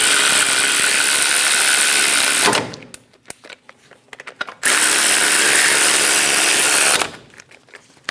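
Brake caliper bolts being snugged down on a 2001-2006 Chevrolet Silverado 2500 HD, heard as two long, loud bursts of a power tool or ratchet with quieter clicking gaps between them.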